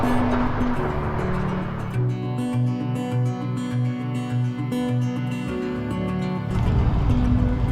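A car drives along a road on a long trip, with a steady low engine hum and rolling road noise, close and continuous, with a rising rumble in the middle stretch and no voices.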